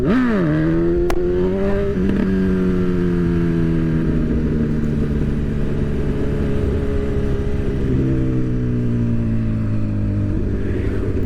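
Motorcycle engine held at a loud, steady high rev while preparing for a wheelie, with a quick blip near the start and the pitch sagging slightly, close and continuous.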